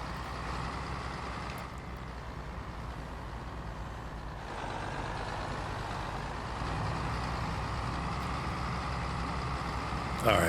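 Truck in Farming Simulator 22 rolling along on the Zielonka map, a steady engine drone and road rumble holding evenly throughout, with a brief sharper burst right at the end.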